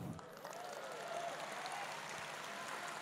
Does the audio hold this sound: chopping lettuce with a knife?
no